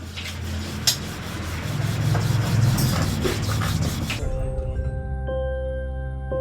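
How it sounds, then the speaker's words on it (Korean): Ground charcoal is rubbed by hand across the surface of a metal Aranmula mirror disc, a close, steady scraping and rubbing that stops partway, leaving a low background hum. "숯을 갈아 디스크 표면에 문지르면 미세한 홈들이 메워집니다."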